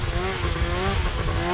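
Engine of a quad ATV fitted with snowmobile skis in place of its front wheels, running steadily at high revs with a wavering drone and rumbling low end, close and loud throughout, with no talk.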